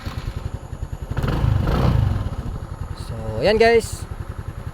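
A two-month-old Motorstar Easyride 150 motorcycle, fresh from an oil change, idles with a steady low putter that swells briefly, while someone talks over it.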